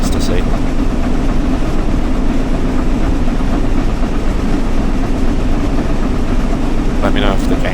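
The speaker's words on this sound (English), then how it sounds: "these steam trains, they can be loud from the cab or the footplate." Steam locomotive heard from the cab in a train simulator game on the West Coast Main Line, a loud, steady, rumbling roar with engine drone and rail noise running throughout.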